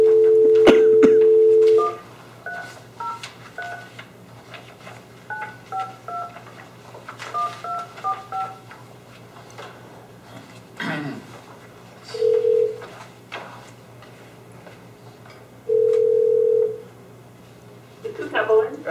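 Keypad tones sound as a speakerphone dials out during a fire district board meeting: a steady dial tone first, then a rapid run of short beeps, a pause and a couple more tone bursts, with quiet room murmur underneath.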